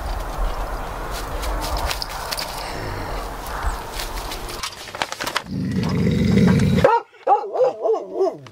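A dog barks indoors in a kitchen, with several loud, close yips and barks, then whining, whimpering yelps near the end, mixed with shuffling and handling noise.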